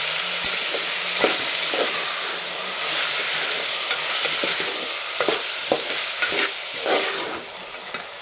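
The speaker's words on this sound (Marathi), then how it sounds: "आणि पावटा आणि वाटाणा आणि छान मिक्स करून घेऊया." Potatoes, peas and field beans stirred in a pan for Maharashtrian masala rice, a loud continuous sizzle with irregular scraping and clacking of a spoon against the pan, with no voices.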